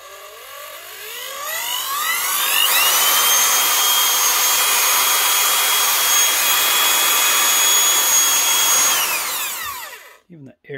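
A brand-new old-stock Makita 8410BV power tool spins up from a rising whine into a loud, steady high-pitched whir with a rushing blast of air, holding for about six seconds before winding down, followed by a few brief knocks.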